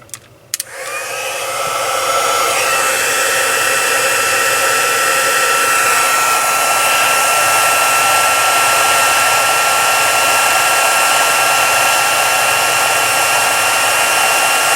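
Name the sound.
embossing heat tool blowing hot air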